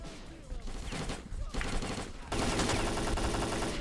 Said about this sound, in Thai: ยิงไปยิงไปอย่าหยุดอย่าหยุดอย่าหยุด